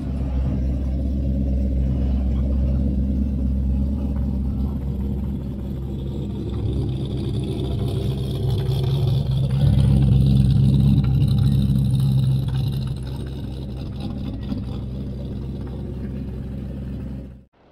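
Show car engine rumbling at low idle while maneuvering into a parking spot at an indoor car show move-in, steady and close, with a brief rise in revs midway, then cutting off at the end.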